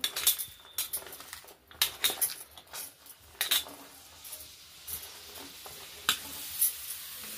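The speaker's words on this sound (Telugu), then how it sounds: "దాంట్లో ఉల్లిపాయలు పచ్చిమిర్చి వేసుకుంటున్నాను." Chopped onions and green chillies fry in hot oil in a pan, giving a low sizzle broken by frequent close clinks and scrapes of a metal spoon against the cookware.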